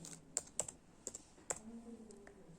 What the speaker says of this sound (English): We can type the any name